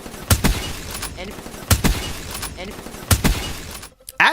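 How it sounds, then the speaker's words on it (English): Thick, sharp crack of a headshot kill in a Treyarch Call of Duty game, three loud punchy hits spaced about a second and a half apart with a crunchy shattering tail, over busy game noise. "they gave us this really thick crack sound every time we landed a headshot kill"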